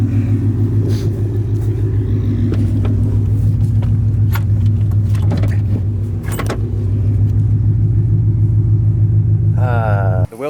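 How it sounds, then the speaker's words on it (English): An abandoned Ford Mustang under rebuild idles close by with a loud, steady, droning rumble that holds evenly throughout. A few light clicks or jangles sit on top, and a brief warbling tone cuts in just before it ends. "I'm so happy to fucking hear this car."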